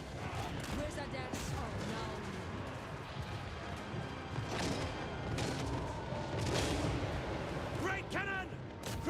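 Cannon and artillery fire in a siege video game, repeated heavy booms and crashing impacts amid a dense battle din, with a player talking over the action.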